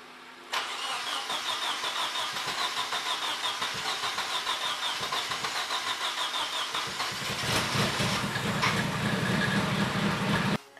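A Nissan 240SX with a dual cam KA engine swap, built as a drift car, runs steadily with a rough, pulsing idle close by, then revs up louder near the end before cutting off abruptly.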